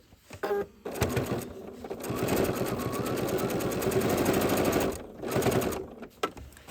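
Sewing machine quilting stitch-in-the-ditch along a seam on a small fabric trivet, a close, steady mechanical whirring run of several seconds, starting and stopping with short pauses and brief clicks at either end.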